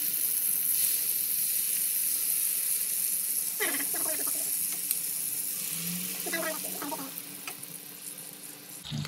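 Chicken frying in oil in a pan for butter chicken gives a steady, close sizzling hiss throughout, with brief stirring or scraping bursts in the middle, and no talking.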